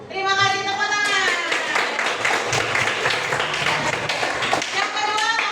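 An audience claps steadily and loudly for several seconds while voices call out and cheer over the applause.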